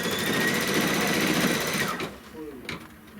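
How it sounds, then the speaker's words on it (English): An embroidery machine stitches a placement line for a glitter sheet, a fast steady mechanical whirr that stops after about two seconds, followed by quieter handling clicks and a brief voice. "And now what it's going to stitch is the placement line for our glitter sheet."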